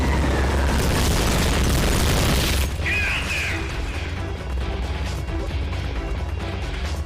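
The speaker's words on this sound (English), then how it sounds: "Yo voy a tirar bomba." A loud, booming bomb blast from Metal Gear Peace Walker bursts out at once and rumbles on, then crashing debris and mechanical clatter follow as the roar slowly fades.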